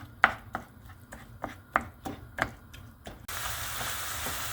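About 400 g of ground meat pressed and broken apart with a utensil in a pan, giving a series of sharp scraping taps roughly every half second, then a steady sizzle of the meat cooking in its own juices.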